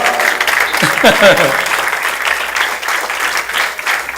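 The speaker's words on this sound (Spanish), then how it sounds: "Y un aplauso." Church congregation breaking into applause after a sermon prompt, a loud, full wash of clapping with brief voices and cheers mixed in near the start.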